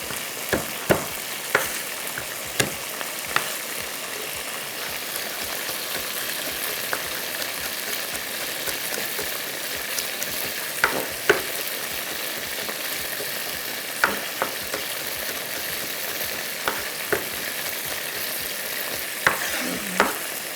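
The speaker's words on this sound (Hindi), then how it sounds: "इसके अंदर ही हम ये सारी चीज़ों को हम कर लेंगे फ्राई" Steady sizzling of green peppers and onion frying in oil, with occasional sharp clacks of a spoon stirring the pan; no voices.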